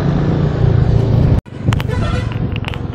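Dense road traffic surrounds a rider on a Royal Enfield Meteor 350 motorcycle, with a loud steady engine rumble, a brief dropout, then several short horn toots cutting through the noise.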